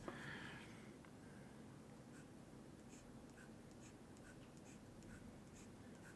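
A fountain pen with a stock fine nib scratches across a postcard, quiet continuous writing strokes with faint rhythmic ticks and no talking.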